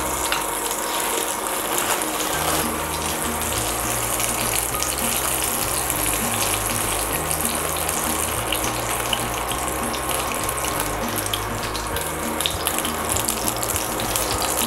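Butter frying in a hot pan for roti with banana and Nutella, a loud, steady sizzle and crackle that continues unbroken throughout, with a low hum running underneath.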